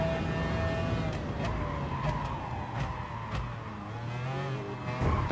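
Race cars in Gran Turismo Sport, including McLarens, roar continuously at close range with rising and falling engine revs, shifting pitch and brief tire squeals as they run side by side into a corner.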